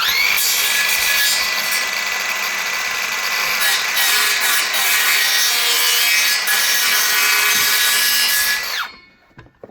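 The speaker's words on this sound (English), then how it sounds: "Just touch it up with the saws a little bit." Power saw cutting a wooden deck board in a long, loud, close rasping whine that holds steady for several seconds, then stops abruptly into near silence.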